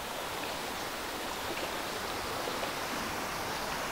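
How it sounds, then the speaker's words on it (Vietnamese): A mountain stream flows steadily nearby, a dense continuous rush and hiss of water with no pauses and no voices. "Ở đây cái view suối cũng rất là đẹp luôn cả nhà."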